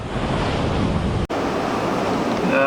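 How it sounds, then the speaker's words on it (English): Ocean waves roll onto a brick-lined shore at high tide in Cape Verde, a continuous loud surf wash with wind buffeting the microphone and a brief dropout midway. "Still some good waves coming through."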